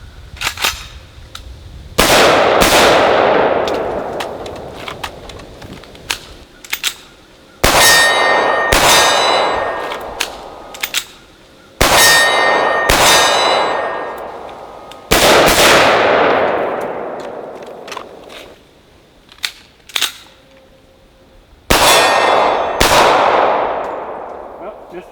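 Ruger Mini 14 in 5.56 and a .45 ACP pistol firing on steel targets during transition drills outdoors, with loud sharp shots each followed by a ringing metallic clang, fired in several separate bursts with short pauses between.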